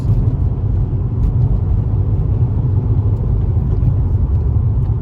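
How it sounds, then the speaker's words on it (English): A car's deep, throaty exhaust with a Remark muffler delete rumbles steadily from inside the cabin with the windows closed, muffled and low, holding an even drone with no talking. "This is what the car sounds like with the windows closed."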